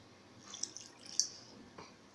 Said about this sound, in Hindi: अब हम इसमें थोड़ा थोड़ा पानी शामिल करते जाएंगे और इसको मिक्स करते